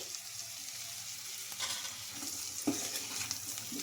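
Small potato pieces fry in a pan with a steady sizzle that runs throughout, and a few scrapes and clinks of stirring come through near the middle.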